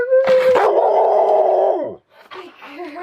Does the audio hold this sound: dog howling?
yes